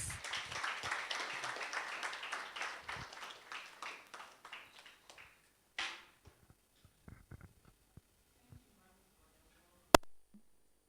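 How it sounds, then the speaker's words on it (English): Audience applause welcoming Mrs. Josephine Adams at a leadership conversation event, fairly faint and moderately dense at first, then thinning into a few scattered claps and a last isolated clap. "let's, with an applaud, welcome our darling Mrs. Josephine Adams"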